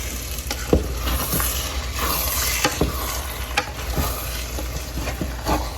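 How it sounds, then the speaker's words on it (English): A spoon scrapes the sides of a pot of Haitian-style rice and black beans as it cooks, soft scratchy strokes recurring irregularly over a steady low simmering hiss, with no talking. "I'm going to use my spoon just to scrape the sides"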